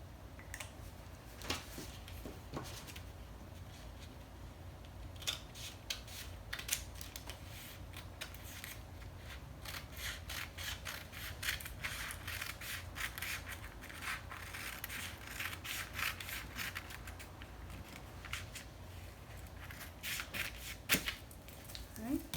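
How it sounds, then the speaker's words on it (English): Scissors cutting through dress fabric for a bell sleeve dress, giving faint, scattered snips and crisp rustles over a steady indoor background hum. "So now I'm gonna cut that out"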